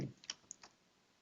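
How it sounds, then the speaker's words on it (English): Password typed on a computer keyboard: a few faint, quick key clicks spaced irregularly over about a second, close and quiet with no talking. "Okay, now I can type in the new password."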